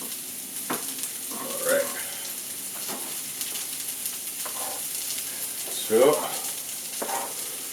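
Potatoes, onion and bacon fry in a skillet with a steady close sizzle, broken by scraping stirs and a couple of louder clatters, while a voice speaks briefly.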